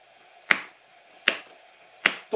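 Sharp hand claps fall at an even pace, four crisp strikes about three-quarters of a second apart, close and clear against a faint background.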